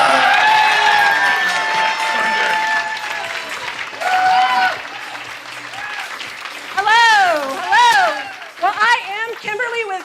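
A comedy showcase crowd greets a performer taking the stage, with loud cheering and whoops that swell in bursts, shouting voices rising and falling over the clapping.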